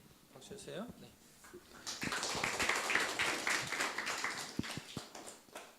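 Audience applause at a church quiz on the story of Noah: a dense patter of clapping swells in after a brief voice and continues steadily, fairly close, with a few sharper individual claps standing out.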